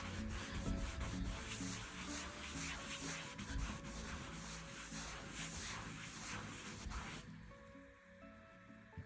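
A cloth is rubbed by hand across a wall coated in Artisan Premium Chalk Paint to buff it to a sheen, giving close, soft, repeated rubbing strokes with a brushing texture that stop abruptly near the end.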